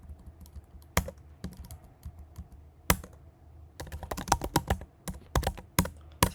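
Keys clack on a computer keyboard while a short line is typed into a file, scattered taps at first, then a faster, denser burst of keystrokes, close and clear with no talking.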